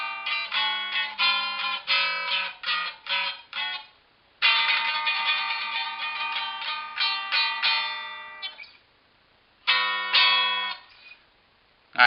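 Electric guitar phrases ending in a classic blues ending: bursts of picked notes, sustained chords and short pauses, played alone on three strings and moderately loud.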